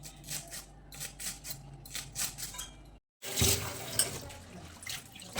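Water from a kitchen tap splashes over freshly cut vegetables being washed, with irregular splashing and light clinks of a bowl, briefly cutting out before a louder burst of running water and handling.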